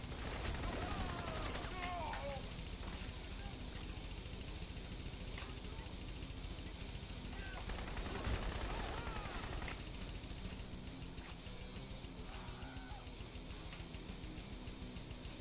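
Sustained gunfire in the shooter game Crysis with the New Blood mod: dense, continuous bursts of automatic weapons and scattered louder shots run the whole stretch, with faint voice or game sounds mixed underneath.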